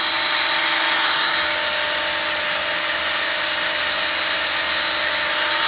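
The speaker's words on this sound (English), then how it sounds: "it's just a drill pump" A steady, loud mechanical whine with a broad hiss runs unbroken as a drill-driven pump works continuously close by, pumping biogas from an inner tube.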